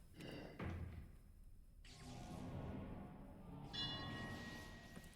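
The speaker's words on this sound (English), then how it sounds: "Okay, I heard a bell." A bell rings out in the game Chill of Ravenloft, with bright sustained tones at the start and again near the end, mixed with heavy thuds and low rumbling.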